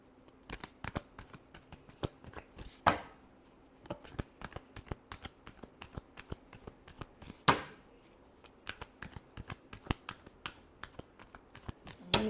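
Tarot cards shuffled by hand during a reading: a steady run of crisp riffling flicks and soft slaps, with two louder snaps of the deck, close and clear with no talking.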